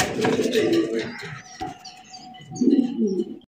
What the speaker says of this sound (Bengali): সাদা দবদবা একজোড়া ইন্ডিয়ান বোম্বাই কবুতর দেখতেই পাচ্ছেন